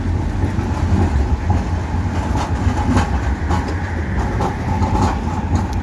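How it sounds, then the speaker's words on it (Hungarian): A number 49 tram pulls into a stop at night in Budapest, a steady rumbling roll with rhythmic rail clicks and metallic squeals, loud and close, with no voices. "Érkezik egy sima 49-es IC, és szerintem egyenesen fog beállni."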